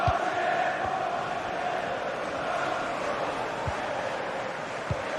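Football stadium crowd roaring in a sustained, distant wash of cheering and chanting, steady and broad, with a few low thumps.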